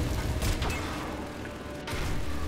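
A Call of Duty 2 grenade goes off with a deep boom, followed by a second blast against a dense, rumbling background of gunfire and mechanical noise.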